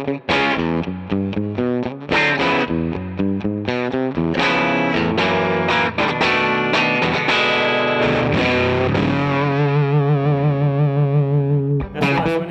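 Electric guitar through a RYRA vintage-style boost pedal, with crisp single notes and chords that ring out and end on a long, wavering sustained note, played alone at moderate loudness.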